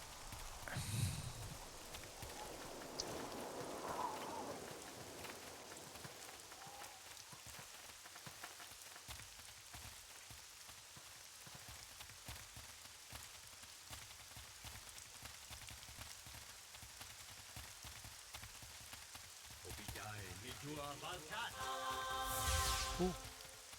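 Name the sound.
rain falling in video game Neverwinter Nights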